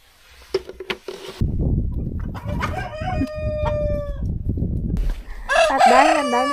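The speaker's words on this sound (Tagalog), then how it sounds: "Dito naman sa kulungan na ito, puro Brahma chicken at silky chicken ang nandito." Brahma and silky chickens clucking in a coop, with a rooster crowing clearly partway through amid repeated close clucks and scattered calls, plus a brief stretch of louder squawking near the end.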